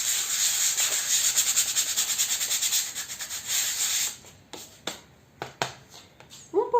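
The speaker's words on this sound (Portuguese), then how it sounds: "a gente também vem com a lixa 100 de acabamento e faz lixa aqui" Hand sanding with 100-grit sandpaper on a chalk-paint finish, a fast rhythmic back-and-forth rasp that runs loud for about four seconds, then gives way to a few isolated strokes and taps.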